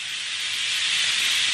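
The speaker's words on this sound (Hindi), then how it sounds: "कुकर की सीटी बज गई है।" A pressure cooker whistle lets out a steady, loud hiss of escaping steam, continuous and unbroken throughout, heard alone without voices.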